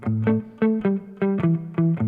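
A simple repeating blues riff on distorted electric guitar, steady rhythmic note pairs played loud and close.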